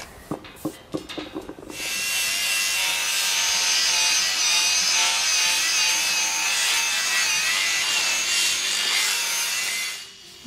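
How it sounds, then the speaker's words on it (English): An angle grinder strips paint from a rusty metal gate: a few short taps and scrapes, then a loud, sustained harsh grinding whine that holds for about eight seconds before cutting off, close and alone. "angle grinders are noisy, so wear some ear defenders."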